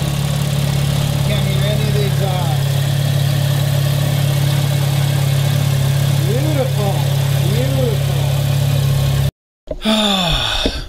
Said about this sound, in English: You can hear just the clicking of the injectors firing.